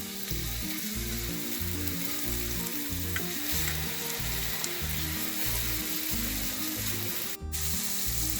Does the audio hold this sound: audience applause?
no